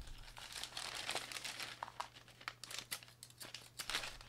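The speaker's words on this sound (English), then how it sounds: "So I'll open the little bag and have a look what's in there." A small plastic bag holding accessories for a Fender Player Telecaster guitar is crinkled and torn open, giving soft, close, irregular rustling and crackling with no talk.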